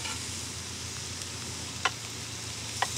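Around 800 grams of diced Steggles turkey thigh sizzles in a frying pan with a steady hiss, broken by two sharp clicks of utensils against the pan.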